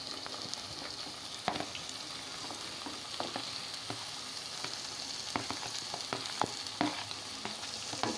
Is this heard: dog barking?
no